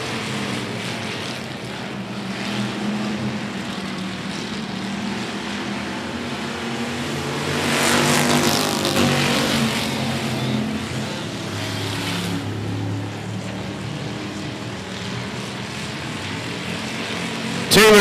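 Race cars lap the track on the first lap at 105 Speedway, their engines droning in a broad, continuous roar that swells as the pack passes around the middle, then settles back to a steady hum.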